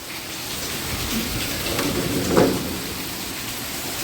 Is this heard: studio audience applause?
no